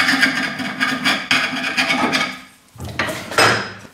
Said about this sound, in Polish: Możemy jeszcze wyrównać pilnikiem.